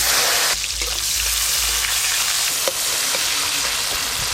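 Black cumin and chopped tomato sizzle and crackle in hot oil for a fish curry, cooked over a village clay stove, a steady close frying hiss with a few soft stirring clicks.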